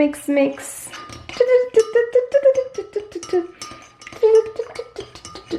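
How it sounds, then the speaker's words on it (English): A small spoon stirs borax into water to dissolve it for slime activator, clinking and scraping rhythmically against a container in quick, close strokes, with a few sharper rings among the steady stirring. "So you're gonna mix until it's all dissolve out, like so."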